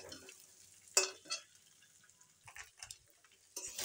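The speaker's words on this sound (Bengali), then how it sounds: "এটাকে আমি ভালো করে কষাবো।" Rice roasting in a pan for a stir-fry: a faint hiss is broken by sporadic scraping and clicking strokes of a stirring spoon, nearby and quiet, with no clear talk.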